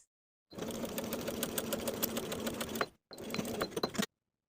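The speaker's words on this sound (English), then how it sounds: "We're going to sew this section with a 3/8 inch seam allowance from the bottom of the crotch curve to the bottom finish edge of the fly facing" A sewing machine runs steadily, stitching a seam in stretch denim jeans, its fast needle chatter filling about two and a half seconds before a brief stop and a second shorter run, close up and alone.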